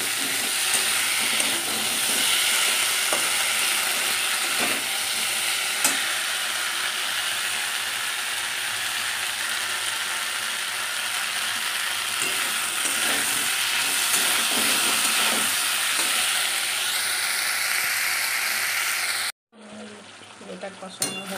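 Potatoes sauté with ginger and ground spice paste in a pan, producing a loud, dense, unbroken sizzle with occasional stirring scrapes; it stops suddenly near the end, and a brief fainter stretch follows.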